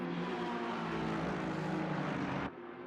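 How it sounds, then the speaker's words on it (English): Racing car engines roar loudly past at the Hungaroring circuit, Mercedes and Ferrari cars among them, a dense sustained close-up howl that cuts off abruptly near the end, leaving lower distant engine noise. "hearing these different sort of engine noises, you know, literal guttural, like, roar of the Mercedes"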